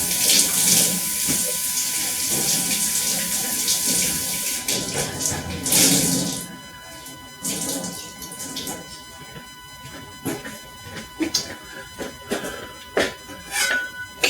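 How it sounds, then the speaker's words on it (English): Water runs from a kitchen tap for a quick handwash during muffin baking, a steady close rush with splashing and changes in the flow as hands move under the stream, gurgling and clinking near the end. "let me wash my hands real quick"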